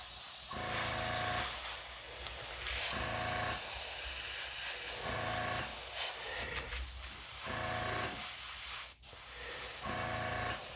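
Bursts of fine airy airbrush paint spray hissing in short repeated passes on a 1:350 scale USS Enterprise model, each a second or two long with brief pauses between, close and steady.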